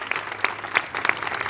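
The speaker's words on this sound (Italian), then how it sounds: "Facciamo un bel applauso per Rebecca Tulino." Audience applause at a World Top Model 2023 crowning ceremony, steady moderate clapping with a few distinct louder claps, heard alone and fairly near.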